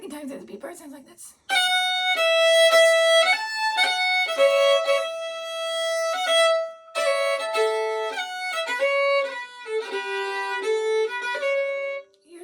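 Solo melody instrument plays the second-time B part of the tune Father John MacMillan of Barra, a clear flowing line of sustained and quick notes, close and prominent, starting after a brief moment of quiet.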